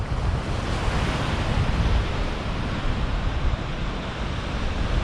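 Sea waves surge and wash steadily against the Lincolnshire shore at Moggs Eye, a continuous close roar of surf with wind buffeting the microphone, no voices.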